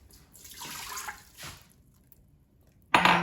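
Water pours into an Instant Pot in two short splashing bursts, close and fairly quiet, followed by a pause and then a sudden louder rush of liquid at the end.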